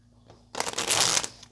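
Oracle cards being shuffled, a quick burst of riffling and flapping that starts abruptly after a quiet moment and runs close and fairly loud for about a second.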